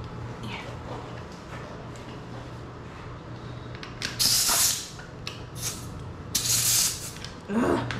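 A small paint sprayer applying a finishing coat to an old wooden dough box, giving several loud, broad hissing bursts of a second or so each over a steady low compressor hum.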